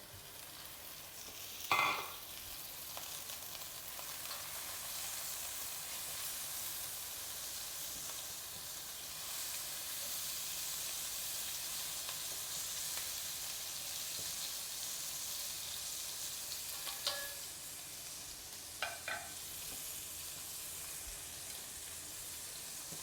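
Scallops searing in butter in a hot pan give a steady, even sizzle and hiss at close range, with a few short clinks or stirring taps; there is no talking.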